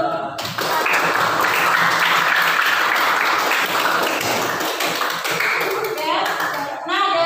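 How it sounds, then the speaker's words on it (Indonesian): Students in a classroom lesson clap their hands together in a dense, sustained round of applause, close and lively, lasting several seconds before dying down. "kita kasih tepuk tangan dulu."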